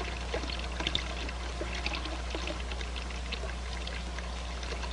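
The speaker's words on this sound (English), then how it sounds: "I reduce the volume flow at successive sections by bleeding water from the manifold." Water bleeding out of a manifold in a fluid flow apparatus, a steady pouring, trickling wash with faint splashes over a constant low hum, heard up close without talk.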